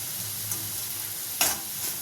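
Potatoes seasoned with salt and chili fry in an iron kadai, giving a soft, steady sizzle at close range with one brief sharper scrape or clatter midway and no voices.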